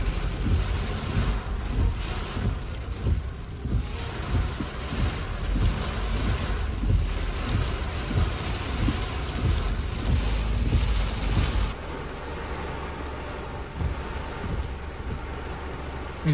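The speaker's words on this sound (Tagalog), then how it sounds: "Grabe lakas ng hangin." Strong typhoon winds during Typhoon Kristine roar steadily against the microphone at Urban Deca Homes Ortigas, a loud continuous buffeting that eases slightly near the end, with no talking.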